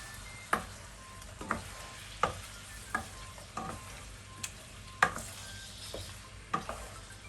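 Noodles in a sticky sauce are stirred in a pan: a regular series of about ten sharp utensil scrapes, roughly one every 0.7 seconds, over a faint sizzle, with no speech.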